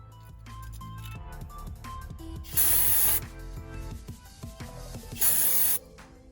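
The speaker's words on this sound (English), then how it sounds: "Spray the brake cleaner over the rotor and calipers, as well as the inner shim and outer shim" Brake cleaner hisses in two loud spray bursts over the rotor and calipers of a 2016 Lexus IS350 AWD front brake, with faint tool clinks and handling noise before and between the bursts.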